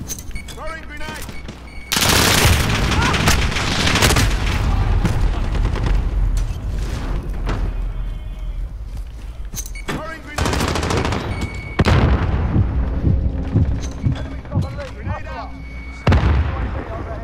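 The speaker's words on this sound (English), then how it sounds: "Throwing grenade." Video game Modern Warfare combat with a thrown grenade, loud rapid gunfire and several heavy explosions booming through the match; bursts cut in sharply, and players talk over the action.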